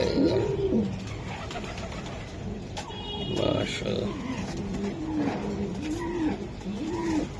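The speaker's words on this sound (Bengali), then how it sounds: "ভাই ভাই, এই আরেকটা কবুতর" Racing pigeons coo over and over at close range, a series of rolling low calls heard beneath someone talking at a pigeon sale.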